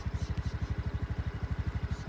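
A farm tractor engine running outdoors in a rural Thai setting, with a rapid, even low chugging pulse that stays steady and fairly close throughout.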